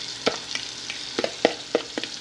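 Chicken sautéing lightly with water in a small pan, giving a soft, steady sizzle punctuated by several sharp clicks and scrapes of stirring, close by with no talking.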